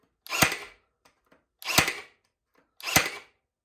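A Ridgid cordless 18 gauge nailer in single shot mode drives 2-inch nails into 3/4-inch birch plywood: three sharp, loud, close shots, evenly spaced about a second apart, each with a short mechanical tail, with no talk.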